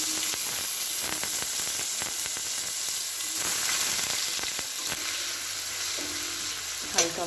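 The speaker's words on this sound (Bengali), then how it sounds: "ওই তেলের মধ্যেই আমি রসুন কুচিগুলো আগে দিয়ে দেবো।" Chopped garlic fries in oil left from cooking chicken, making a steady close sizzle with occasional stirring scrapes and a brief clatter near the end.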